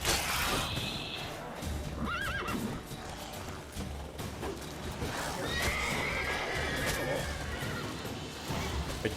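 Horse neighing and whinnying in The Witcher 3: Wild Hunt game on PS4, with clip-clop hooves and combat clatter in a busy, steady soundscape, a clear whinny rising near the two-second mark.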